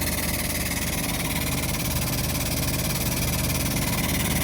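A hydraulic, air-pressure tyre changer working a farm tyre off its steel rim, heard as a steady, loud mechanical drone with a continuous engine-like hum and vibration, unbroken throughout and with no talk over it.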